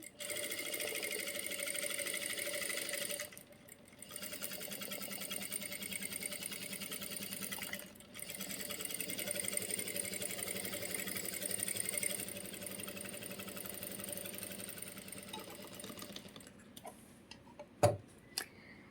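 A sewing machine stitches a pant pocket with a fast steady ticking whir, pausing briefly twice, then stopping near the end with a sharp click.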